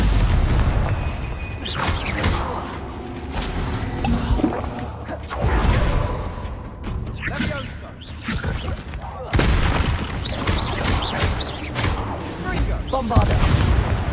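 Repeated Bombarda blasting spells explode in the Hogwarts Legacy video game, several booming bursts with whooshes spread across the stretch amid ongoing game sounds and talk.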